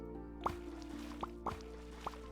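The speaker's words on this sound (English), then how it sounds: "Alright, so we need water in the watering trough." Water filling a watering trough in a cozy sheep-farming video game comes through as a few soft, quiet plops and drips, spaced in an uneven rhythm over a faint steady hum.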